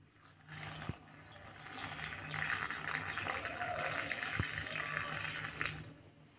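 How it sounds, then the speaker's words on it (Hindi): Tap water runs steadily into a kitchen sink as about 100 grams of mushrooms are rinsed, a continuous close splashing rush with a couple of small knocks. "इसे हम अच्छे से पहले साफ़ कर लेंगे पानी"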